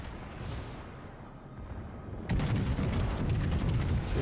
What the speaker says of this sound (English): Here comes the Minotaur fire again.